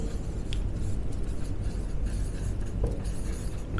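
Chalk or a marker scrapes steadily across a classroom board in a continuous close scratching stroke with a few sharper ticks, heard with no talk over it.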